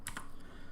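A few quick keystrokes on a computer keyboard, a short cluster of soft clicks near the start against a quiet room background.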